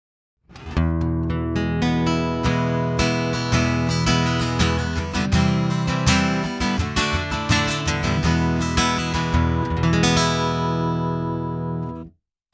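A dreadnought acoustic guitar tone modeled by a Line 6 Variax Acoustic 700 is strummed in full chords, loud and close, ringing for about eleven seconds before cutting off.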